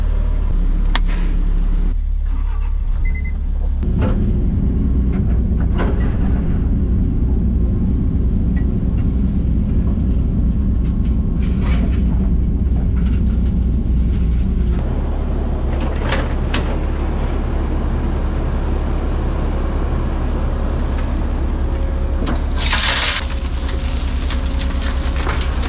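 A loaded dump truck drives along, its engine a loud, steady low drone with rattling and shifting tones throughout, no voices.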